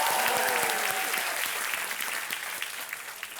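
A studio audience at a television quiz show claps in a full, sustained burst of applause, thick and even at first and then thinning slightly toward the end, heard alone without speech.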